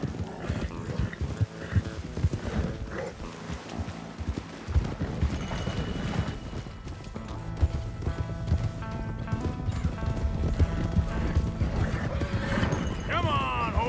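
Horses gallop with loud clip-clop hoofbeats and a whinny in Red Dead Redemption 2, a Western video game, under continuous music and effects, while a voice talks over the action.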